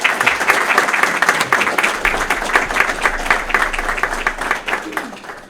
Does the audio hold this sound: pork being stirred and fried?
no